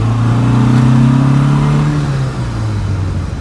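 A 1971 Lancia Fulvia's engine hums steadily and close while driving, holding a firm mid-pitched drone, then easing and dropping slightly in tone for the final second or so. No one speaks.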